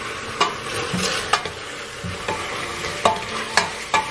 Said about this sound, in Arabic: هون بلشت تتقلى